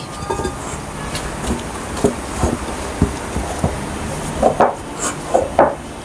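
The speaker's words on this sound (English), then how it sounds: "I'll proceed to kneading it with my hands" Burger bun dough being kneaded by hand in a bowl, with soft rubbing and squishing broken by scattered dull thumps and light knocks against the bowl, close and fairly quiet.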